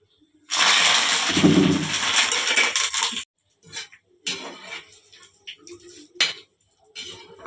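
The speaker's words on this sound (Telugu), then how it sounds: "కరివేపాకు ఇట్లా వేయించుకోవాలి." Curry leaves hit hot oil in a pan with a loud, crackling sizzle burst lasting about three seconds, followed by scattered clinks and taps of a spoon against the pan.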